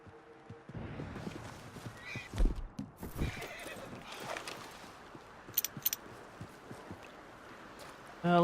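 In Red Dead Redemption II, a horse snorts and whinnies while hooves clip-clop over ground near water, with scattered nearby thuds and rustles, a few sharp high tones, and soft ambient outdoor sound between them.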